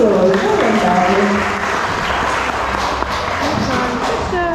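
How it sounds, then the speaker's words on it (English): An audience claps at an outdoor bird show featuring parrots and an owl, steady and fairly close, while voices talk and murmur through the applause. "Let's give him a big round of applause."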